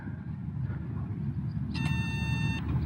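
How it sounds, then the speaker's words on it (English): A single electronic tone with a bright harmonic ring, an RC plane binding to its radio, sounds for under a second over a low, rumbling background noise. "You get some beeps there, and then you should have control."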